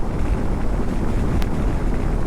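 Strong wind blasting against a motorcycle-mounted action camera on a ride around Chikkaballapur, a continuous loud roaring buffet with a brief sharper gust midway.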